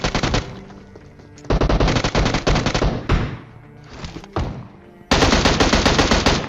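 Automatic gunfire in a PUBG match near Pochinki, heard as long dense bursts of rapid shots that swell and drop in loudness, ending in a harder, punchier volley, loud and close with no talk.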